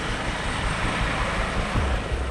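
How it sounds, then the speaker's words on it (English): A steady, broadband mechanical drone of a Coast Guard helicopter overhead, constant and fairly distant, with no voices. "the Coast Guard helicopter is also dispatched"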